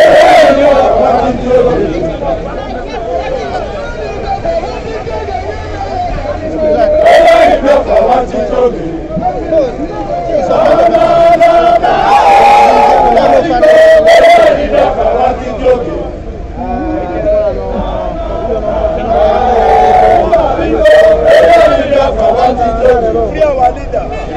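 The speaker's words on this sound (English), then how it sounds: "Look at the crowd here, look at the mammoth crowd here." A large crowd of IPOB protesters in Rome, Italy shouts and chants loudly and continuously close by, a dense roar of voices with a louder surge in the middle.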